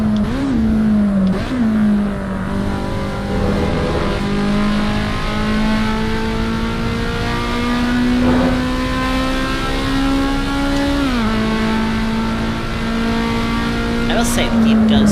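Car engine running and revving in the racing sim Assetto Corsa Evo, a steady idle-like drone rising and dipping through several rev changes over fifteen seconds, close and loud, with someone talking over it.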